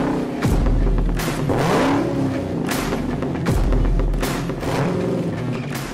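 A Dodge Challenger SRT Hellcat Redeye engine roars loudly and continuously, rising in repeated surging pulls as it accelerates, with no voices over it.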